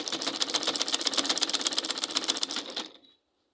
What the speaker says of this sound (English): So I'm going to sew it now straight down.